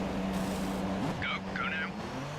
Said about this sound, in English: We're going to pit. In the pits we go.